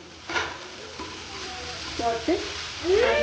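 Cooked Maggi noodles tipped into a pan of sizzling egg masala: a steady frying hiss with a few utensil scrapes and clinks, and a voice talking over part of it.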